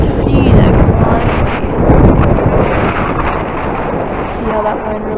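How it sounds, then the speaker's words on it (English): Strong wind buffets the microphone outdoors while a T28 model plane is flown on a very windy day, a loud continuous roaring rumble throughout, with faint speech mixed under it. "See how that wind really affects it."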